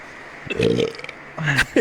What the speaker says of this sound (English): how many times have you burped into the microphone?